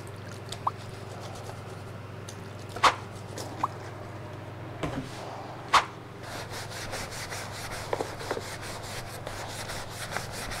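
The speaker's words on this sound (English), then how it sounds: "scrape what I can, and then sand what I can" Old wooden furniture being sanded by hand, a soft steady rubbing with occasional sharp clicks and taps, faster scratchy strokes toward the end, no voices.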